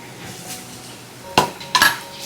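A spoon stirring bitter gourd in a cooking pan, with soft scraping followed by two sharp metallic clanks against the pan, close and clear.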